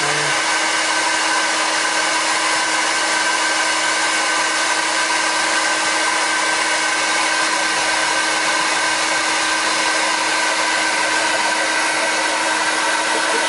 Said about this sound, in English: We're going to put the lathe on stroke speed